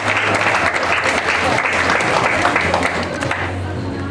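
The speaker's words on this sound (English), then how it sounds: "A round of applause" Steady, dense applause from an audience at a hospitality training programme graduation in central Jamaica, loud and continuous throughout with a low hum underneath.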